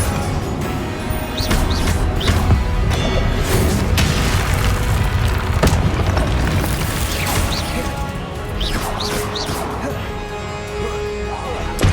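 A Confringo blasting spell explodes in the Hogwarts Legacy video game, one of a chain of loud booms and crashing impacts that sit over a continuous dense rumble of combat effects.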